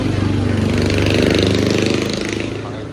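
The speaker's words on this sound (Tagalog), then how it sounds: "250cc ang makina ng Aprilia." A 250cc keyless Aprilia scooter engine idling nearby, a steady low throbbing putter that holds evenly and fades slightly toward the end.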